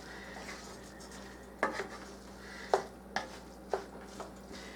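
A utensil stirs turkey and veggie pepper stuffing in a bowl, giving four or five distinct clinks and scrapes against the dish over a quiet room hum.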